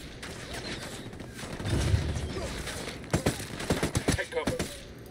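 Gunfire in Ghost Recon Wildlands: after a stretch of rumbling ambience, a close series of sharp rapid shots rings out in bursts, with mechanical clatter between them.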